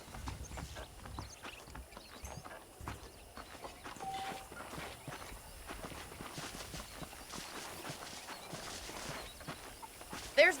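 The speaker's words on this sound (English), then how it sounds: "The horses are saddled up over here." A saddled horse clip-clops in the Western video game Red Dead Redemption, with steady, quiet hoofbeats at a walking pace over low background sound.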